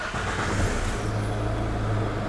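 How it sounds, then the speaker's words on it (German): Car engine turning over and catching, then settling into a steady low idle hum that carries on evenly after the start. "starte mal das Auto"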